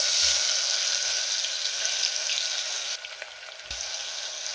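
Chopped onion hitting hot oil already crackling with mustard seeds, cumin and asafoetida, giving a bright, steady sizzle up close with a few soft knocks and a brief dip partway through.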